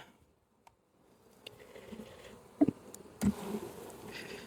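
Honey bees buzzing around an open hive during an inspection, a faint steady hum with a few louder close passes of individual bees near the end.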